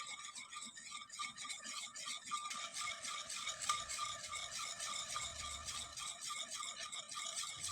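A thick rice paste stirred in a pot over very low heat: a quiet, rhythmic scraping and rubbing that repeats steadily throughout, with no voices.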